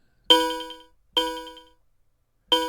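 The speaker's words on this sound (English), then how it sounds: "We can add this kind of clave sound" Three bright, metallic synthesized clave hits with short ringing decays, spaced unevenly apart, crisp and close with silence between strikes.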